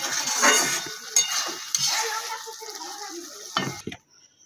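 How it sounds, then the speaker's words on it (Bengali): A spoon stirs potol posto, pointed gourd in poppy seed paste with coriander leaves scattered in, in a pan; close, wet scraping with a couple of light clinks, ending in near silence. "এবার একটু ধনে পাতা ছড়িয়ে দেব দিয়ে একটু নাড়াচাড়া করে দিলাম"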